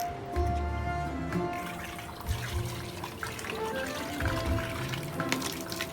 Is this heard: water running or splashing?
yes